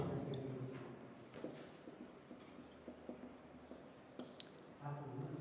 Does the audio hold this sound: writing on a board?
yes